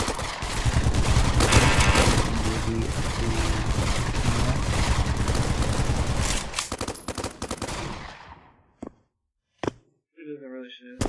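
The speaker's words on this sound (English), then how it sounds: "there's people shooting over there" Dense machine-gun and rifle fire rattles loudly in a video game for about seven seconds, then fades and breaks into near silence with a few brief sounds near the end.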